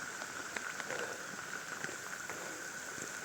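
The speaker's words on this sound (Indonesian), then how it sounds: "Hujan." Steady rain hisses outdoors on a narrow, cliff-lined dirt track, with scattered drops ticking close by under a constant wash and no voices.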